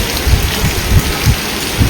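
Rain beginning to fall slowly in a Gujarati village makes a dense, loud hiss on surfaces, with soft low thumps pulsing underneath and no voices.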